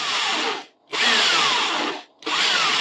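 A power drill boring a hole in metal runs in three steady whining bursts, each separated by a brief pause, close and loud with no talk.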